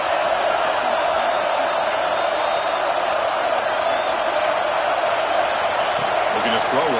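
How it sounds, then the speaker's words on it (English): Dense football stadium crowd roaring steadily and loudly throughout, a broad continuous wash of cheering with no break. "the crowd coming to life here"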